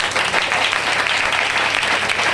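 Sustained audience applause fills a church gathering, a dense, steady wash of many hands clapping close and loud without a break, with no talk over it.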